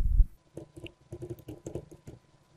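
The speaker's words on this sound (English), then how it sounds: "Here, we'll type premium plan." Keystrokes on a computer keyboard entering a title into a web form, a quick run of soft irregular clicks after a brief low thump, close and fairly quiet with no voices.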